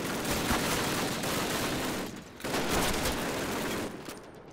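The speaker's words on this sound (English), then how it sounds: "Our machine gun will destroy me" Call of Duty (2003) battle with sustained bursts of machine gun fire, dense and loud, with a short lull in the middle before the firing resumes.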